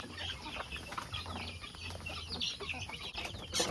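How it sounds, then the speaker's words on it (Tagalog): Chickens cluck and chatter busily nearby during feeding, with overlapping calls and scratchy background bustle, steady for a few seconds. "Nagpapakain ng manok."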